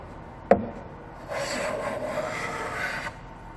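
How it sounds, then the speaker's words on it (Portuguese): A piece of frejó wood is machined with the grain, a sharp knock followed by a steady rasping cut lasting about two seconds, close and fairly loud, then stopping. "eu vou usinar essa peça aqui de frejó nos 2 sentidos"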